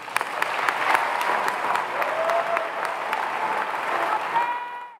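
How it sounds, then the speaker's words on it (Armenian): A crowd applauds the students at an Armenian church community program, a dense, sustained wash of clapping that holds steady for several seconds and then stops abruptly. "Վերջապես ամենեն մեծ ծափահարությունը մեր աշակերտներուն"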